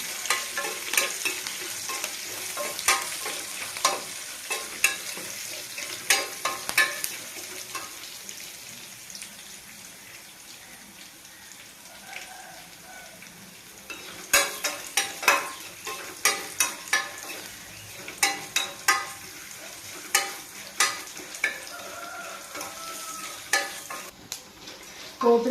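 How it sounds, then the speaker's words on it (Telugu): Tempering spices crackle and sizzle in hot oil in a pan for raw banana fry, with a low continuous frying hiss broken by frequent sharp pops and spatters, some in quick clusters, and no talking. "పోపు దినుసులు బాగా వేయాలి"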